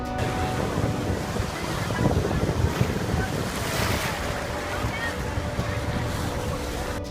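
Ocean surf rolls and breaks in the shallows along a shore, a loud continuous wash of water churning with heavy wind noise buffeting the microphone throughout.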